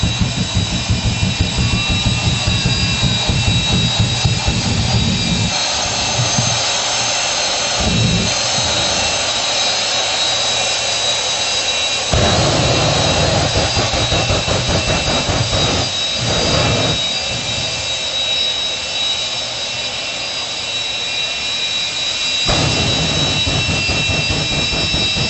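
A roaring jet engine on the Foxwoods jet-powered pickup truck at a Chevy thunder stunt show in 1995, loud and sustained with a whining tone, its roar surging and dipping several times throughout.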